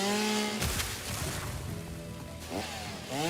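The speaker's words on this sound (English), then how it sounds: "I forgot how loud the chainsaw is as well." Chainsaw in the video game Satisfactory, loud and near, with a revving engine whine that rises, settles into a sustained buzzing drone, then revs again near the end, with no speech over it.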